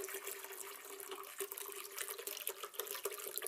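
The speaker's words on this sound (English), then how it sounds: "let's start off by adding around half a litre of water, or 2 cups of water" Water poured into a blender as the liquid base for a green smoothie, a steady close splashing stream running for a few seconds with no talk over it.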